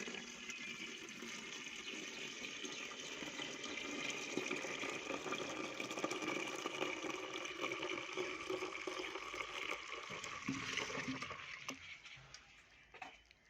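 Water pouring steadily into a car's windshield washer reservoir, a continuous gurgling, splashing fill that holds for several seconds before trailing off, heard up close and fairly quiet.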